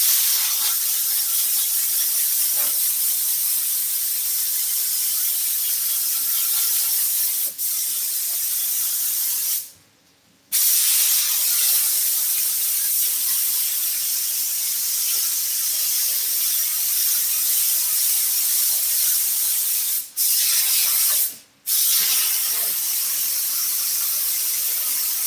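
A spray gun sprays upholstery glue in a steady, loud hiss during a Ford F-100 seat recover, broken by a few brief pauses as the trigger is released, over a constant suction fan drone.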